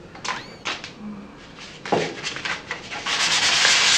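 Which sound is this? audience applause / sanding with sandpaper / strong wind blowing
sanding with sandpaper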